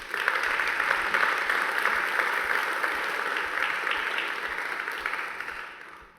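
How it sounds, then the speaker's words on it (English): Steady applause from a sizable audience at a UNESCO academic conference, sustained for several seconds at an even level before fading out at the end. "Give him a big round of applause"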